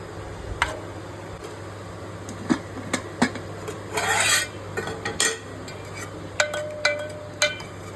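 Metal serving spoons clink and scrape against pots and plates while a home meal of jeera rice and thin dal is dished out, with scattered sharp taps and brief rattles over a quiet steady hum.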